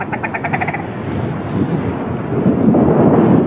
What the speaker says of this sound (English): I hope that wind's gone up.